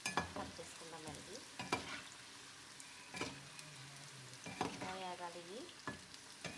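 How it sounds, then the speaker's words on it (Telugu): Brinjals frying in hot oil, a soft steady sizzle punctuated by several sharp scraping stirs of a utensil in the pan, with a voice speaking faintly in the background. "వంకాయలు అయితే ఇందులో వేసాం కదండి నూనెలోని"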